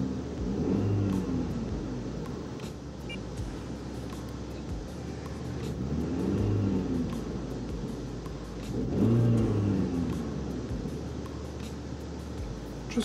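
A car engine runs steadily at idle during an OBD-II diagnostic check, with three smooth swelling revs rising and falling above the low rumble; no one speaks.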